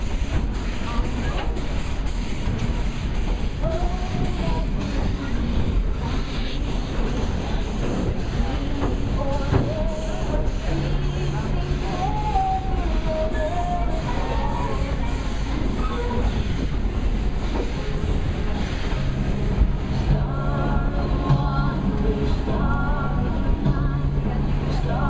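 The Dollywood Express, a coal-fired steam train, rolls up a mountain line with a continuous clattering rumble of wheels and cars, faint chuffs and squeals scattered over it, and passengers talking quietly in the background.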